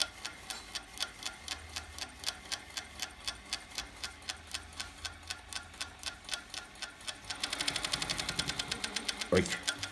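A New Tech GC-562-01CA flatbed coverstitch machine sews with four threads, its needle clattering in a fast, even rhythm close by, then speeding up into a denser, louder whir near the end.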